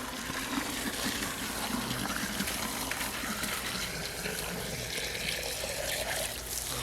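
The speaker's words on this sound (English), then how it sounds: "you fill it up with water" Water pours and gushes into a plastic horse fly catcher container, a steady rushing fill with gurgling shifts that carries on close by without talk.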